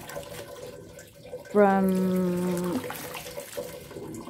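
Tap water running over plastic flowers being rinsed, a steady close stream starting abruptly and lasting just over a second before cutting off, with quiet background talk around it.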